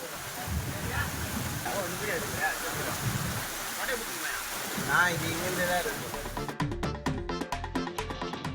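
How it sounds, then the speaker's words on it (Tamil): Heavy rainwater surges like a flood along the road to a government girls' higher secondary school in Kandachipuram, a dense, steady rushing roar close by that turns into choppier bursts near the end. "கண்டாச்சிபுரம் அரசு பெண்கள் மேல்நிலைப் பள்ளிக்கு செல்லும் சாலையில் மழைநீரானது வெள்ளம் போல ஆர்ப்பரித்து சென்றது"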